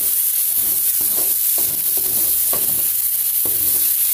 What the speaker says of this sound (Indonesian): Lanjut kita tumis lagi sampai cabainya benar-benar layu.